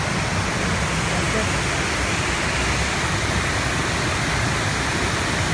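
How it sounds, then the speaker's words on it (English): A waterfall roars as a dense, steady wash of rushing water that fills the whole scene without a break, heard close and loud. "Waterfall is right there, wow."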